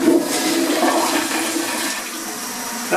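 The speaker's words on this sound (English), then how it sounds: "That's some good flush right there." A freshly repaired toilet flushes with a loud, close rush of swirling water that drains and fades over a few seconds, with no talking.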